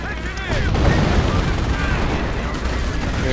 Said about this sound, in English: I'm doing a creeping barrage on my own tank.